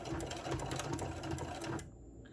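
A sewing machine stitches a seam on a fabric lanyard in a quick, even run of needle strokes, then cuts off sharply.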